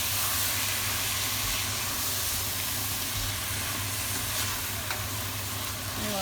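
Food sizzling steadily in a frying pan while being stirred, a continuous close hiss and crackle with faint scraping, no voices.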